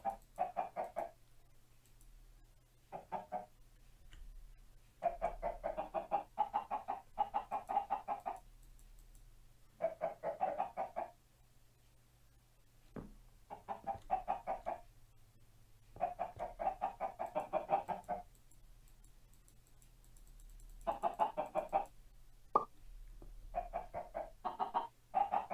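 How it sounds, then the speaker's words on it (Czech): Chickens in the video game Regrowth cluck in repeated bursts of busy chatter with quiet gaps between them, set over a faint steady hum. "máme tady ještě tyhle ty krásné slepičky"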